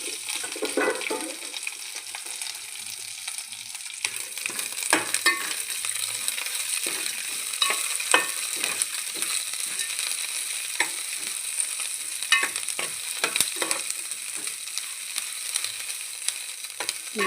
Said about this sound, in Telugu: కొంచెం డీప్ ఫ్రై చేయాలండి